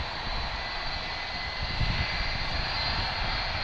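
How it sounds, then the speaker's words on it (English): A Boeing 757 jet engine roars steadily at DFW airport, a broad, loud and continuous whine and rush with no voices. "Here's the 757."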